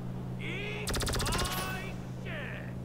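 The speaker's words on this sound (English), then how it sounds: "Sounds like an energy weapon." Energy weapon firing in GTA V Online survival mode, a loud rapid burst of buzzing pulsed shots lasting about a second, bracketed by shorter whining electronic tones before and after over a steady game hum.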